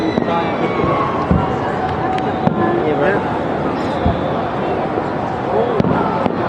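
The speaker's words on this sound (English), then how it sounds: "I think they're all just watching the fireworks." New Year's fireworks burst over a Hawaiian neighborhood just after midnight, sharp pops and booms scattered irregularly over a continuous crackling wash, with voices and murmuring people mixed in.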